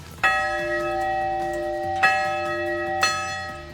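The Holy Angels parish church bell rings out in three strong clangs, each strike followed by a long shimmering hum that fades slowly, with no talking.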